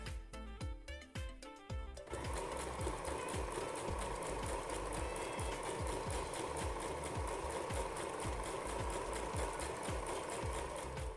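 A sewing machine stitches all the way around the waistband of simple shorts, leaving an opening for elastic; a few slow stitches give way to a fast, steady, close mechanical chatter.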